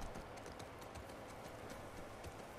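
Horse hooves clopping in The Last of Us Part II, a quiet, steady run of soft hoofbeats heard alone with no talking.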